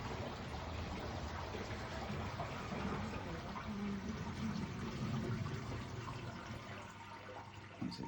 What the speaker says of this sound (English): If it's got water in the drum, it'll ask you to start draining and it'll drain out.